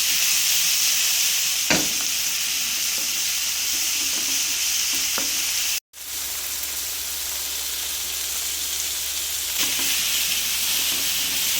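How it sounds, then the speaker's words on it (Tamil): Tomatoes fry in a pan for prawn masala, sizzling and hissing steadily up close with a few sharp stirring knocks, broken by a brief silent gap midway, no voices. "தக்காளி போட்டு நல்லா ஃப்ரை பண்ணணும்"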